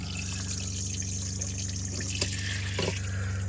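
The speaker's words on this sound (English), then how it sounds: "So you can see the flow is really, really nice. It feels like a residential shower." Shower water in a Winnebago Travato 59G Class B RV camper van runs in a steady, full spray, with a continuous hiss and a low pump hum heard close up.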